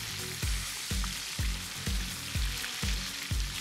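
Sand smelt sizzles and crackles as it fries in hot oil. A steady fry hiss runs under regular soft clunks, about two each second, with no voices.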